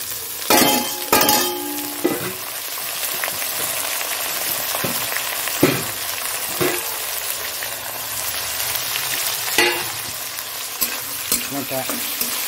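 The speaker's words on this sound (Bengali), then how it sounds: "একটু ঢেকে ঢেকে ভাজা করবো।" Leftover rice fries in a pan with potatoes, sizzling close and steadily while a spatula strikes and scrapes the pan in sharp, irregular knocks.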